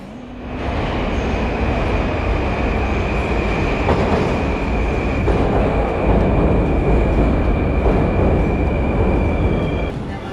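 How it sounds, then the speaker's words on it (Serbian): A Tashkent metro train, on Central Asia's oldest metro, runs with a loud, continuous rumbling roar and a thin steady whine above it, holding close and even for about ten seconds. "Ovo je najstariji metro u centralnoj Aziji."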